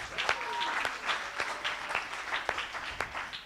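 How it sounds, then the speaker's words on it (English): Applause from a dinner audience at an annual gala dinner, a steady patter of many hands clapping for a few seconds, fairly close and without talk over it. "So please give him a round of applause."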